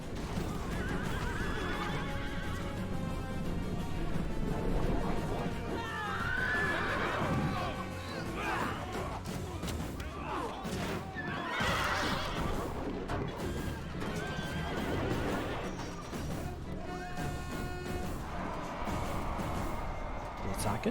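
Horses neigh and whinny among horse archers in a battle in Rome: Total War, with hooves clopping, crashes and gunfire-like blasts over steady battle noise, and someone talks throughout.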